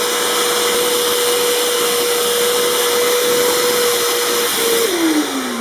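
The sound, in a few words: Bissell ProHeat carpet cleaner running on coffee stain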